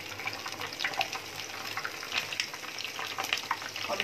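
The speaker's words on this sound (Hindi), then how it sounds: "इसको अच्छी तरीके से हमें फ्राई करना है" Coated snacks fry in hot oil at home, giving a steady, soft sizzle and bubbling that runs evenly throughout at low volume, with no other sounds.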